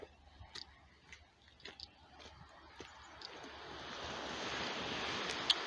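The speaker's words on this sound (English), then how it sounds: "I don't know if you can hear the ocean coming in" Ocean surf rolling in at Dungeness Wildlife Refuge, a soft wash of waves that swells from faint to a steady roar over several seconds, with light wind noise and scattered small ticks.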